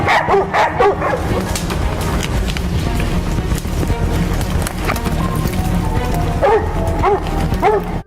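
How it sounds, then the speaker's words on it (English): Hunting hounds bark frenziedly after finding a wild boar, with rapid overlapping barks and yips that are loud and close, continuing almost without pause. "a frenzied barking erupts from the hounds, indicating they've located the beast"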